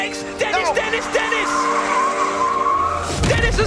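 A Formula E race car brakes very late, its tyres squealing and skidding in sharp rising and falling screeches over a whining electric motor, with excited commentary shouted over the top.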